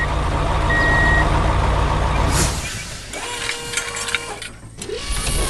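A cartoon red truck rolls through a green field, with a loud, steady engine rumble and a high beeping tone that give way to quieter mechanical clanks and ratcheting.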